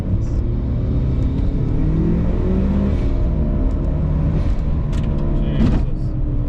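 A Mitsubishi Evo IV turbo car accelerating hard from inside the cabin, its engine note rising steadily through the gears over road rumble, with a short whistle near the end and no talk.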